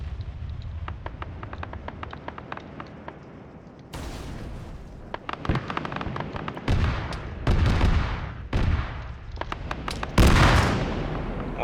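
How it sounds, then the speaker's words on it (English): Armor-piercing rounds firing in Arma 3 combat: rapid repeated cracks and heavy booming impacts, sparse at first then growing louder and denser, with several big blasts toward the end, no speech. "More AP rounds coming in."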